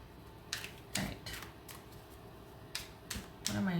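Tarot cards shuffled in short papery bursts, several quick riffles spaced apart and heard close, with a voice speaking faintly alongside.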